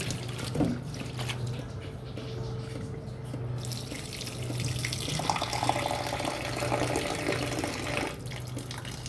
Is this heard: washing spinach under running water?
yes